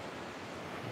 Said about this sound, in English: Just waiting for some waves to crash in around all these rocks here